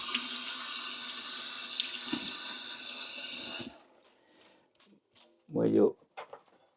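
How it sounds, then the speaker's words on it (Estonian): Running tap water pours steadily as hands are rinsed under it for about four seconds, then stops, followed by faint drips and handling sounds and a brief spoken voice. "Oota, loputan käed korraks ära."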